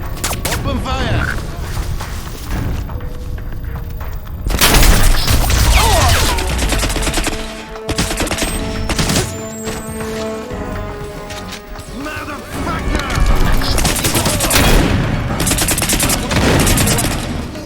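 Gunfire from a squad opening fire in an intense game firefight: dense bursts of rapid shots and volleys that swell and fade across the whole stretch, loud and close, with crashes and clattering in between.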